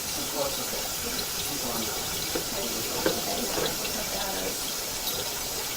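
Water runs through a sewer line during a camera inspection, a continuous, even rushing and hissing with faint splashes and no break.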